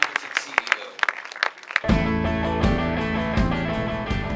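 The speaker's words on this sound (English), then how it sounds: "A round of applause to Reverend Timothy Njoya" Sparse, scattered claps from an audience at a business and spirituality gathering sound for a couple of seconds before loud music with a steady beat cuts in and takes over.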